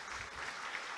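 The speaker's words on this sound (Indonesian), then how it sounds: "Jadi mohon tepuk tangan yang meriah buat support system." An audience at a specialist doctors' inauguration ceremony applauds in a dense, even wash of clapping that sounds fairly distant and soft.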